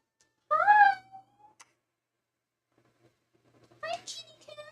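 A cat meows twice, close and clear, with a sharp rising-falling cry early on and another after a long quiet gap.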